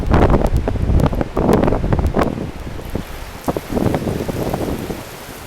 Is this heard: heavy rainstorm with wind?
yes